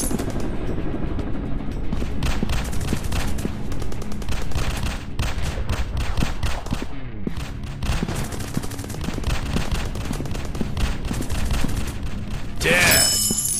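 Continuous gunfire from an Android first-person shooter game, dense rapid shots and booms layered over a busy game soundtrack, with loud volleys running throughout.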